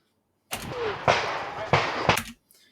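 Pistol shots fired at targets during a USPSA competition stage, four sharp close reports in quick succession over about two seconds, with movement noise between them.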